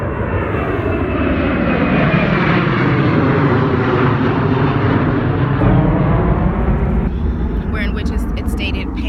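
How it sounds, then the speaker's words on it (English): A propeller airplane drones overhead, loud and sustained, its pitch slowly falling as it passes, with a faint voice briefly heard near the end. "There's another plane."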